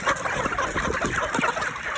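Chickens cluck busily close by as pellet feed is poured, a cluster of short overlapping clucks and murmurs from several birds at once.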